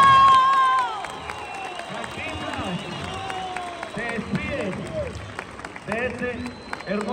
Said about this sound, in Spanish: quiero que me le den un fuerte aplauso